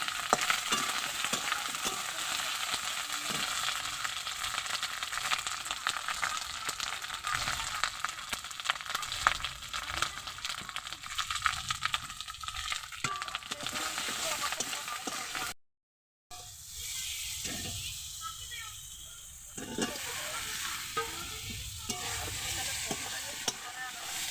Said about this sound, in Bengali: আমি পটলগুলো ভেজে নিয়েছি